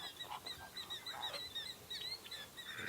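Canada geese honk repeatedly in short, rising calls, close and fairly loud, scattered over a steady outdoor background with no talking.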